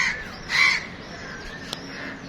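A crow caws once loudly and nearby on a rooftop, a short harsh call followed by quiet background.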